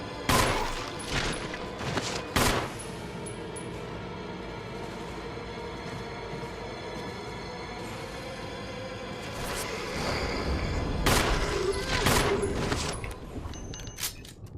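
Gunfire from shooting zombies in Resident Evil HD, a few sharp, loud shots near the start and another burst near the end, with quieter game ambience between them.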